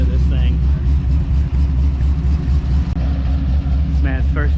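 A car with an LSG62 engine on a test drive, its deep engine drone loud and steady with a rising rev, while people talk excitedly over it.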